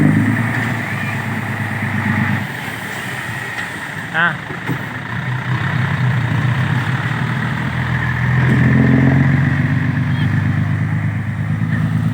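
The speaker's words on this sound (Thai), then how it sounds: "ต้องให้รถไถดันมานะครับพี่น้อง" A heavy tractor engine rumbles and idles continuously, swelling louder near the end, with voices faintly talking over it.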